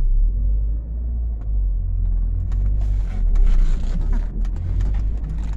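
A 1998 MGF VVC pulls away in first gear with a steady low engine rumble that swells slightly as it gains speed, heard from inside the car with no talk.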